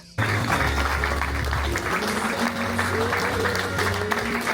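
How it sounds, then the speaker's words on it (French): After a performance of the theatre play Closette in Avignon, an audience claps in a dense, steady wash, with faint sustained tones running underneath. "le plan d'après, en fait, c'est les applaudissements de ce spectacle"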